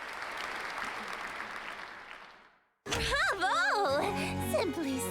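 Applause in the video game Sucker for Love: First Date, a dense burst of clapping that fades out after about two and a half seconds, then gives way to a voice talking over music.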